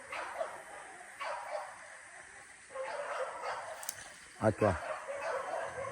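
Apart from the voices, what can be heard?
dog barking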